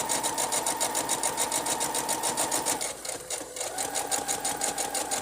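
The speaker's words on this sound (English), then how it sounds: "I don't advise you sew that fast" A sewing machine runs fast and steady while stitching fabric for a homemade face mask with a filter opening, its rapid even needle rhythm loud and close, easing briefly mid-run before resuming at full speed.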